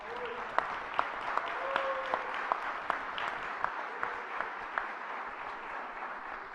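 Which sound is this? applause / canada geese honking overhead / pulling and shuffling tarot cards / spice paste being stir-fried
applause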